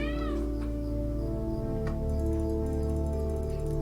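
Mog the cat in the game Cinders whines and meows, a rising, wavering cry at the start followed by softer mews over a steady background drone, heard alone without talk.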